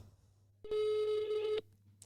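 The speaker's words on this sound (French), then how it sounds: "Bon, on appelle Sophia." A single telephone ring tone sounds while a call is being placed, a clean steady electronic tone lasting about a second over low background hum.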